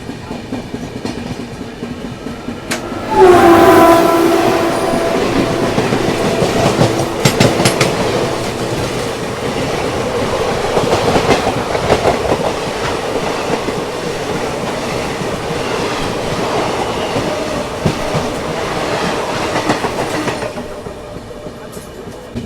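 The Champaran Satyagrah Express, an Indian passenger train, rolls along the rails with a steady loud rumble and rhythmic clickety-clack of wheels over joints, heard from inside a 3E coach, with a brief squeal near the start.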